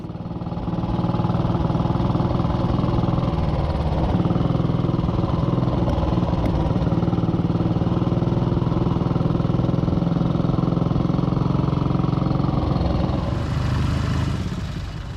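A classic Ariel motorcycle being ridden, its engine droning loud and steady at a constant pace for the whole stretch before easing slightly at the end.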